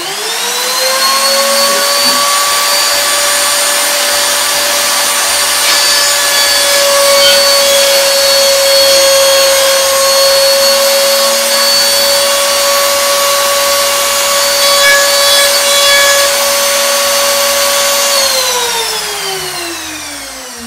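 Wood threading machine cutting a wooden thread: a loud, steady motor whine holding one pitch for nearly the whole stretch, then winding down near the end, close by and with nobody talking.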